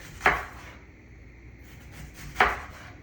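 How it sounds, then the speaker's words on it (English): A knife chops an onion on a cutting board for caramelizing, giving two sharp, close chops about two seconds apart in an otherwise quiet kitchen. "I'm just gonna chop it down, dice it down"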